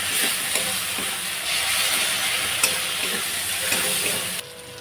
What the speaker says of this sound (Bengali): একটা বড় টমেটো দিয়ে দিলাম। দিয়ে আমি এটাকে ভালো করে কষবো।